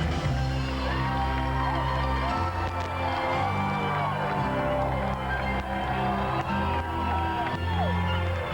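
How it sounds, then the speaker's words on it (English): A huge crowd roars and cheers at the 1991 Cal Ripken parade in Baltimore, a dense, continuous wall of noise with scattered whoops and shouts rising throughout. "Take a listen to this crowd."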